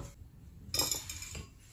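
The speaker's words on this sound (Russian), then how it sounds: "Разбалтываем яйцо с сахаром." An egg and sugar are beaten together in a bowl for a no-bake cake cream, with a short flurry of clinking metal against the bowl that starts abruptly after a quiet moment and continues in quick strokes.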